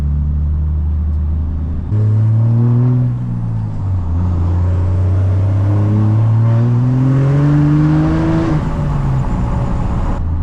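A custom-built pickup truck accelerates hard, its loud, close engine note rising steadily in pitch through a gear, dipping briefly on a shift before climbing again; no voices.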